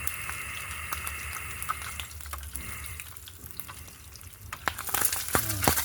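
Food frying in a pan while being stirred at home, a steady sizzle with scraping and clinking of the utensil, growing busier with sharp clatters toward the end.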